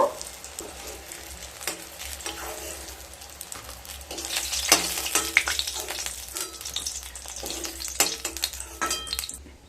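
Eggplant pieces fry in hot oil with a steady crackling sizzle that swells louder midway, punctuated by clinks and scrapes of a utensil turning them in the pan.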